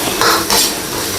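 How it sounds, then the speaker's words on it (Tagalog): Chicken thigh in hoisin sauce with peaches and celery being stirred in a pan, a few close metallic scrapes and clanks of a utensil against the pan in quick succession. "stir lang po natin siya para ma-mix po natin yung ating hoisin sauce"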